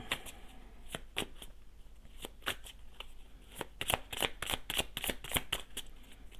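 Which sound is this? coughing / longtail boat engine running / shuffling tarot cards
shuffling tarot cards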